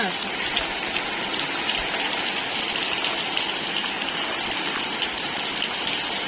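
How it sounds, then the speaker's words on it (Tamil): Heavy night rain pours onto a tiled roof of a house in Chennai, making a dense, steady hiss and patter that stays loud and unbroken throughout. "இப்போ ஓட்டு வீட்டில் இருக்கனால நல்ல சவுண்ட் கேட்குதா"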